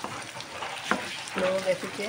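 Ginger frying in a pan while being stirred, a soft sizzle under a brief utensil tap, with a voice speaking over the end.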